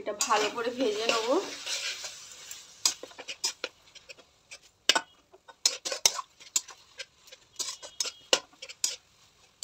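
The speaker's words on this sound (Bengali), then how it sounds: "এটা ভালো করে ভেজে নেবো।" Ginger garlic paste frying with onion and tomato in a pan for biryani, a short sizzle at the start followed by repeated clinks and scrapes of a spoon stirring, close and intermittent.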